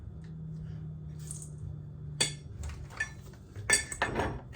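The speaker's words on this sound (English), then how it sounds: "I'm going to go ahead and do a 1/2 cup again of these cashews." Raw cashews being measured into a half cup, with scattered clinks and rattles of nuts and utensils in a kitchen, a few sharp bursts near the end over a low steady hum.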